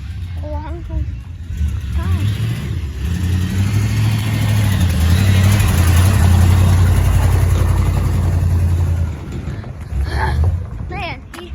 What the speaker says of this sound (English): Sounds like a chug, chug, chug, chug, chug. It's because it's an old truck.